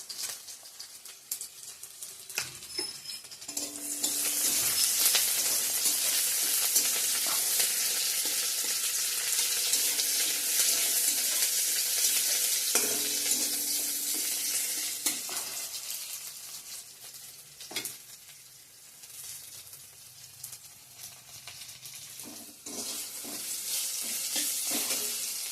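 Panch phoron spices fry in hot oil while being stirred, giving a loud, bright sizzle that crackles throughout, with scraping stirs and a few louder clatters, near and without talk.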